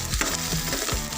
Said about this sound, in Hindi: इसके साथ मैं भिंडियाँ ऐड करूँगा, बल्कि कर दूँ ये फ्राई हो जाए इस ऑयल में